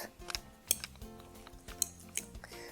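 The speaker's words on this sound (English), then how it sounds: "take a fork or a potato masher and go ahead and mash the bananas till they're soft and mashed up" A fork or potato masher squashes bananas in a mixing bowl for oatmeal cookies, giving irregular clinks and soft squishy scrapes of metal against the bowl, close and fairly quiet, with no talking.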